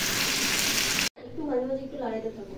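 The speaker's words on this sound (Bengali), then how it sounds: "এখন চিংড়ি মাছটা দিয়ে দিচ্ছি" Prawns with garlic, tomato and chilli hiss and sizzle loudly in a pan for about a second before the sound cuts abruptly to a person talking.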